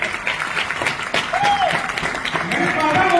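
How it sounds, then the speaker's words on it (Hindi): An audience bursts into loud, sustained clapping in a hall at the Hyatt hotel in Delhi, the dense applause mixed with voices and crowd murmur throughout. "अरे क्या बात है, जोरदार तालियां।"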